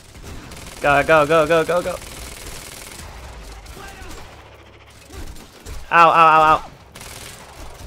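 Two short bursts of automatic gunfire from a weapon in the video game Quantum Break, the first about a second long and the second shorter, with a man exclaiming briefly in between.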